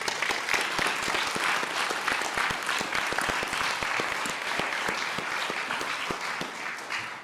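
A church-style gathering breaks into sustained applause from a large crowd, a dense wash of many hands clapping at an even level for several seconds, slightly distant and without speech over it.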